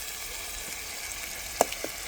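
Onions frying in a pan give a steady, soft sizzle throughout, with a couple of faint clinks near the end.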